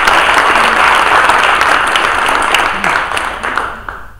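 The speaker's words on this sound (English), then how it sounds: "So round of applause again for them." A room of people applauds after startup pitch presentations, loud dense clapping close by that holds steady, then gradually thins and fades out toward the end.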